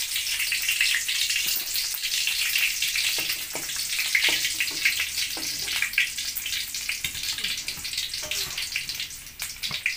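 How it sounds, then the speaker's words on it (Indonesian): Shallots frying in cooking oil in a wok, a steady bright sizzle with crackles and pops running throughout, close and fairly loud with no talking. "Tuangkan sedikit minyak goreng ke wajan untuk menumis bumbu halus. Namun goreng bawang merah dulu agar aromanya jadi oke."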